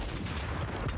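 Rapid gunfire in Call of Duty on the Urzikstan map, a dense, continuous burst of shots filling the whole second at close range with no talk over it.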